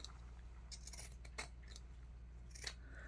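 Scissors snipping through fabric being trimmed for a handmade journal cover, a few crisp cuts spaced unevenly over a steady low hum, close and fairly quiet.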